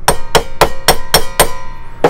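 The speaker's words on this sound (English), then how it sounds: "Like if you need to hammer and you want to do this." A hammer strikes a glass jar lid to punch a hole, seven sharp metallic blows in a steady rhythm, loud and close with no talking.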